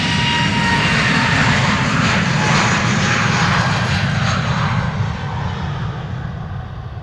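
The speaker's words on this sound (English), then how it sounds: "This is an A320 Neo." An Airbus A320neo departing Amsterdam Schiphol for Oslo thunders close by with heavy jet roar and a faint whine, then eases slightly as it pulls away.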